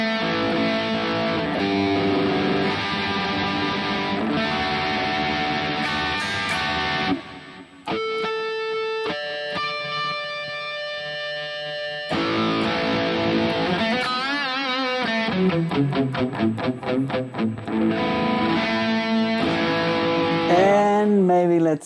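Harley Benton DNAfx Git multi-effects unit shapes a high-gain distorted electric guitar, played loud with dense chugging chords, a brief cleaner arpeggiated passage in the middle, then heavy riffs with bends and slides.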